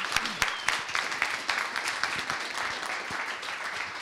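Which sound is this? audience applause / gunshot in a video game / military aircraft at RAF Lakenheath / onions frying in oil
audience applause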